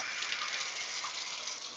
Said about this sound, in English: you're going to hear the water running